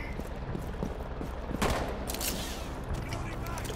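A gunshot rings out in Rainbow Six Siege during an attack on the Border map, a sharp crack cutting through steady game ambience and background chatter, with a few fainter follow-up reports afterward.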